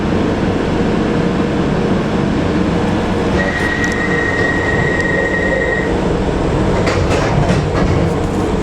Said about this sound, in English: This is a Bakerloo line train to Harrow and Wealdstone.